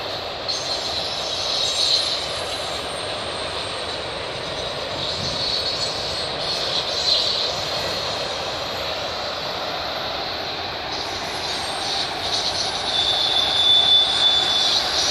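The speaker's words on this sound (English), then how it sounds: "Got this 147 train." A CN freight train loaded with many autos rolls steadily past in Milton, Ontario, with a continuous rumble of wheels and a persistent high metallic squeal, loud and close over about fifteen seconds.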